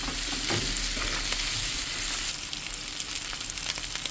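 A Goan crab meat filling fries loudly in a pan with a dense, continuous sizzle, while a utensil stirs it with faint scraping taps underneath.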